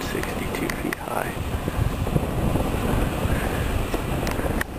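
Steady wind roaring across a microphone on a California mountain top near Mount Shasta, continuous and loud throughout with faint gusting variation.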